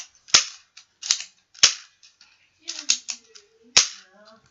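Toy guns snapping off sharp cap-gun cracks, four loud close shots spaced irregularly with smaller clicks and mechanical rattles between them.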